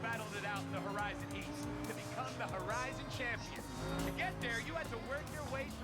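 Racing car engine revving and surging in a racing video game, with tire squeal and passing whooshes over a steady engine drone, under continuous talk from a player.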